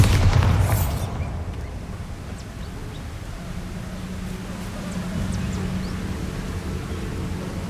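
A Bombarda blasting spell explosion in the Hogwarts Legacy video game, one heavy low boom that fades into a long rumbling tail and faint ambient game noise.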